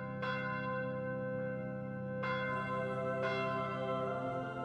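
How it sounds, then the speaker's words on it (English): A church bell in Fire Emblem Echoes tolls three times at a steady, unhurried pace, each strike ringing loud and close over a continuous sustained hum, with no speech. "Why are they clanging that infernal bell?"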